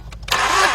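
A 2006 Mazda 6 engine that cranks but does not start: a short, close burst of starter cranking following a few faint whirs, loud and rough for under a second.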